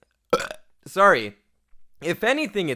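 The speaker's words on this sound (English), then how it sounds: "I apologize for that burp. That was a wet one." A man lets out a wet burp right after eating an apple, followed by his speech in a quiet room.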